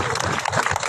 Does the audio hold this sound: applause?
yes